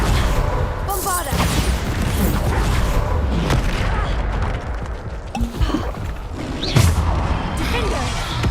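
Loud blasting spell explosions from Hogwarts Legacy gameplay, dense booms and crashes layered over continuous combat noise and music, with a sharp burst near the end.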